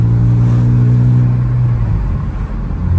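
BMW E46 engine revving high, a loud close steady roar with a strong low hum that roughens toward the end.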